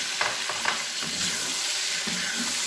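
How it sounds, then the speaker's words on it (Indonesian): Chicken pieces go into a hot pan of wilted aromatics for a sweet-sour spicy strawberry Fanta chicken dish, giving a steady close frying sizzle with brief stirring scrapes and clatters, no voices. "Nah, ini kita masukkan ayamnya"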